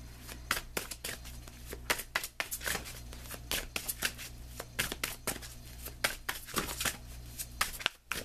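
A Vintage Wisdom Oracle deck is shuffled by hand, giving a close, quiet run of crisp riffling card snaps in an irregular rapid rhythm for several seconds, with no talking.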